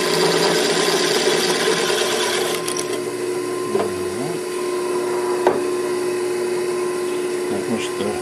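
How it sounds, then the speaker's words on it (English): A power drill whines steadily close by, drilling out a hole in an amplifier's tone control board, pitch dipping briefly as it bites into material, with a few light knocks and clicks. "We shall drill that out anyhow."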